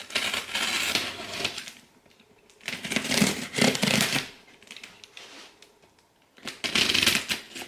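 A blade slicing through the tape of a sealed shipping box holding a pink Smeg citrus juicer, giving three bursts of close, crisp scraping and crinkling with quiet pauses between them.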